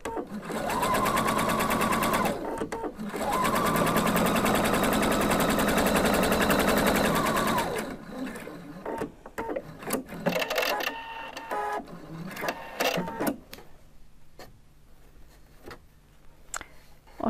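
A sewing machine stitches a slit facing onto fabric in two fast, loud continuous runs, followed by scattered clicks and handling sounds as the work is adjusted, with a voice talking quietly.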